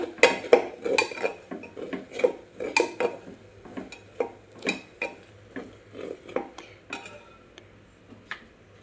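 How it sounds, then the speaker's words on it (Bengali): Black pepper and dried chilli powder being stirred in a pan, a spoon scraping and clinking against the metal in quick repeated strokes, close and fairly loud, with no voices. "গোলমরিচের গুঁড়ো, আর দেব শুকনো লঙ্কার গুঁড়ো, দিয়ে ভালোভাবে নাড়াচাড়া করে নেব।"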